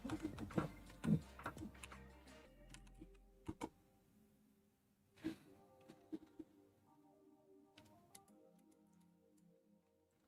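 Computer keyboard typing during a dungeon renovation game stream, scattered quiet key taps and clicks in irregular bursts over a low background, with no talking.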